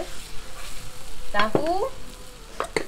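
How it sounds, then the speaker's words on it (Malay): Cut tofu frying in a pan gives a steady close sizzle, with a brief scrape and clatter of stirring partway through. "Tahu kita dah potong, kita goreng"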